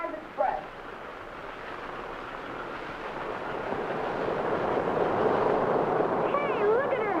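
An American Flyer model train, a streamlined Santa Fe, passes as a steady rising rumble and rush that swells toward the end, with a brief whistle-like tone near the start.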